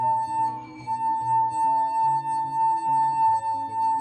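A wet finger rubbing around a glass rim, producing a steady, sustained ringing tone that holds clearly throughout with faint lower humming beneath it.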